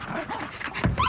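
A dog in a British film scene gives a short, close bark or yelp near the end of a brief moment of background sound and music.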